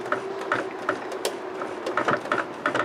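A sewing machine running with no thread, its needle moving up and down in a steady repeating mechanical clatter of small clicks and taps, close and alone.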